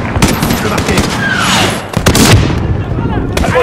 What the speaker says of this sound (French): Ça fait du tir, Gary.